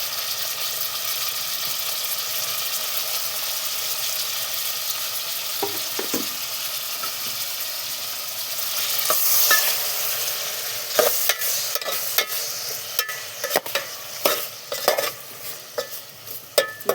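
Tomatoes and drumstick pieces cook in oil in a pan, a constant soft sizzle joined later by sharp clicks and scrapes of a spatula stirring at irregular intervals, close by and without talk.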